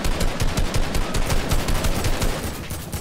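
Assault rifle gunfire in the video game Fortnite, rapid continuous bursts of shots fired in quick rhythm, loud and close throughout, with no voices.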